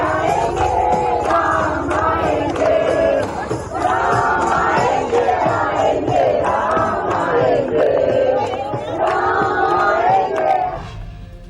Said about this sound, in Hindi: चार मीनार में भक्तों ने राम का भजन किया।